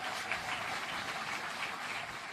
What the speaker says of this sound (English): You can clap for that, folks.